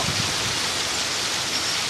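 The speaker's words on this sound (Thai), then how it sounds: "มีฝนตกหนักและมีลมแรงค่ะ" Heavy storm rain lashes down with strong wind at Mae Lamao in Tak province, Thailand, a dense, steady roar of downpour that holds constant throughout, with no voices.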